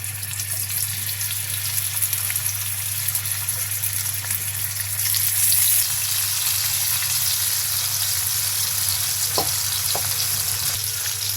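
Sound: frying poa fish in oil

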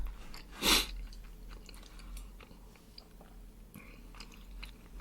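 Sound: chewing a big bite of salmon and kimchi stew

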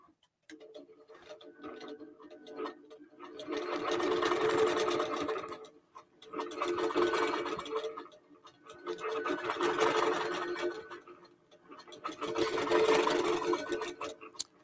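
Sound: QBOT V3 quilting machine stitching a quilt

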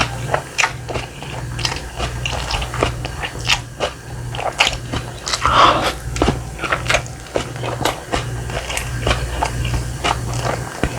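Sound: biting and chewing a convenience store burger

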